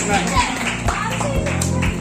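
People clap at a class 12 farewell party, with several sharp claps spaced through the moment under lively nearby talking.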